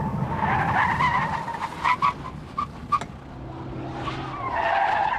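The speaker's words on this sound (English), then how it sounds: "Stamping on the brakes at the same moment every time resulted in most of them ending up in the same place" Car tyres squealing and skidding under hard braking during a handling test at 50 mph, a wavering high screech with engine noise beneath, easing briefly mid-way before swelling again near the end.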